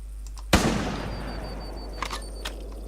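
A hunting rifle fires once at a deer in the video game theHunter: a single loud, sharp report with a long decaying tail, followed by a few faint clicks and small game sounds.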